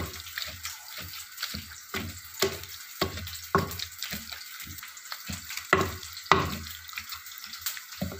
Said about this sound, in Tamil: இப்போ இந்த மத்த வச்சு இந்த கத்திரிக்காயை நல்லா மசிச்சு விட்டுருவோம்.